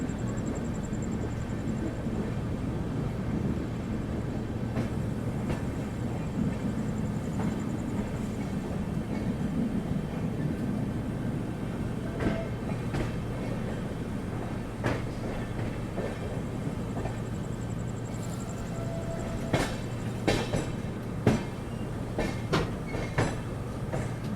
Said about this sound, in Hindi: और बेहद ही खूबसूरत दिखती हुई काशी विश्वनाथ एक्सप्रेस।